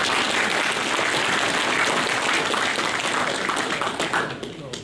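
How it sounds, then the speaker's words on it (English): An audience at a magneto restoration seminar applauds, dense steady clapping for several seconds that fades slightly at the end, with no voices. "Round of applause for Gail."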